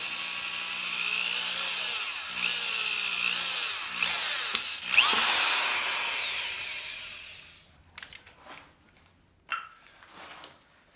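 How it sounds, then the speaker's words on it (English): A power drill whines steadily at high pitch for several seconds, boring a pilot hole through aluminum on a Salsa Mukluk bike frame, then stops and gives way to quieter handling clatter. "So I'm just going to drill a pilot hole here first."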